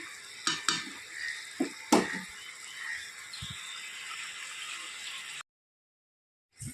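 A pot of light fish curry with potatoes is lifted off a stove, giving a few sharp metal clanks and scrapes over a steady sizzling hiss, then falling silent near the end.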